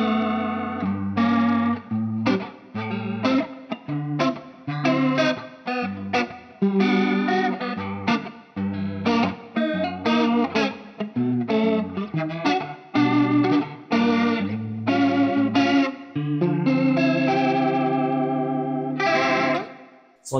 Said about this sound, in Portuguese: eu consigo um som de Leslie muito bonito